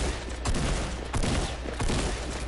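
Rapid bursts of automatic gunfire in the Fortnite battle royale video game, played in duo mode on PS4, crackle in dense volleys that pulse roughly every half second, loud and continuous throughout.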